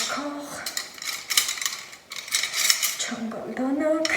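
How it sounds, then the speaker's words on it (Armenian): Forks and other cutlery clink as they are laid out while setting a dining table at home, with light metallic taps and dish contact scattered through the clip alongside faint background voice. "այստեղ պատառաքաղ"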